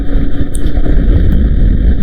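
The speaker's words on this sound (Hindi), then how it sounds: "तेज़ हवा चल रही है, बहुत ज़्यादा तेज़।" Strong wind roars and buffets the microphone during a motorcycle ride, a constant low rumble, loud and close, with no voices.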